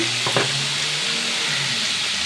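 Egg and onion fry in a pan with a loud, steady close sizzle and hiss, plus a brief clink of a utensil near the start.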